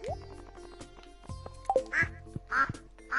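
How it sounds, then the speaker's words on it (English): Ducks quack in the farming video game Stardew Valley, three or four nasal quacks spaced about half a second apart over steady background game music. "And I bought more ducks, so there are 12 of them"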